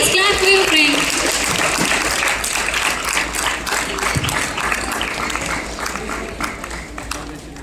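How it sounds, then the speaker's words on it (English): A school audience claps steadily at an annual games and sports prize distribution ceremony, a sustained wash of applause with a faint voice beneath. "Please clap for your friend."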